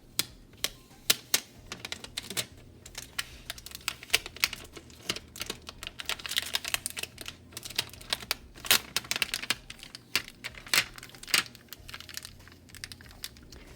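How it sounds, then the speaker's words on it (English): Transfer tape is peeled off flock material holding rhinestones for a shirt. It makes faint, irregular crackling and crinkling ticks, with small bursts spread through a quiet, close scene and no speech. "I am going to carefully remove the transfer tape from the flock"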